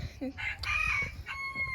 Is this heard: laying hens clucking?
yes